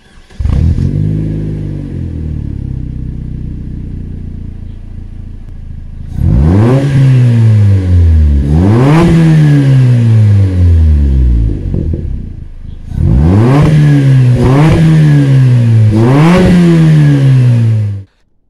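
An Opel Speedster 2.2L 16v with 147 hp and an aftermarket exhaust idles with a low burble, then is revved hard in two loud bursts of repeated quick blips that rise and fall sharply, each ending abruptly.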